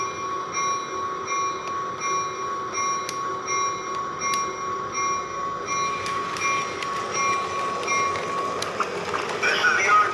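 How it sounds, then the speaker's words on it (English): An O27 toy train runs on a figure-eight track connected to Fastrack with two O36 switches, giving a steady rolling rumble and rail hum with a sustained whistle-like tone and clicks, a little louder near the end. "Watch the train."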